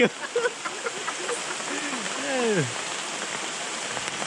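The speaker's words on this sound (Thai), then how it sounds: "ก็ฝนมันตกแล้ว" Steady rain falls on a forest during a riverside fishing trip, with broad continuous hiss throughout and a voice speaking briefly over it early on.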